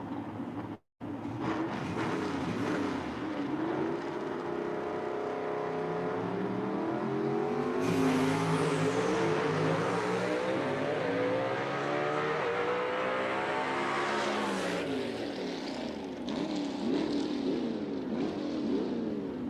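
A gasser-style drag race car makes a full pass down Jackson Dragway at night, its engine roaring and climbing through gears in sweeping pitch rises, loud and sustained for the whole stretch with no talk over it.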